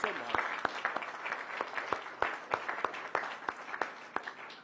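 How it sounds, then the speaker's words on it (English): Scattered hands clap at a ribbon cutting for a new transit station, each clap sharp and distinct in an uneven, fairly sparse rhythm that thins out toward the end. "Can I get a round of applause just for everybody?"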